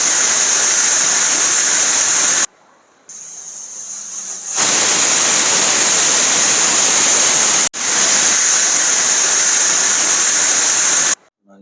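Loud, sharp steam hissing from a pressure cooker whistle while sweet potatoes boil, cutting out briefly and resuming twice, then stopping abruptly near the end.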